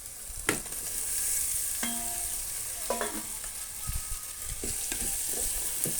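Chopped tomatoes hitting sizzling onion masala for a homestyle chicken curry, with a continuous frying hiss punctuated by several clinks and scrapes of a spoon against the pan, no voices.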